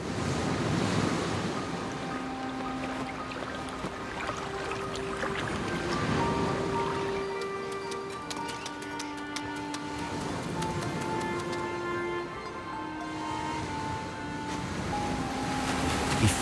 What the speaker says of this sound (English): he catches the sound of the sea.